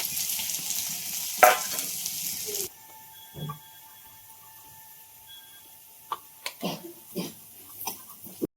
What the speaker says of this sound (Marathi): तेल तापले जिरे टाकले तर मी आता कांदा टाकते कांदा चांगला परतून घ्यायचा